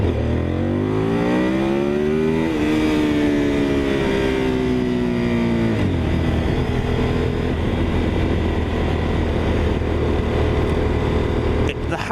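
A Honda VTR1000 SP1 motorcycle engine revs loudly up close, its pitch climbing and then dropping as the throttle rolls off, settling into a rough, throbbing idle.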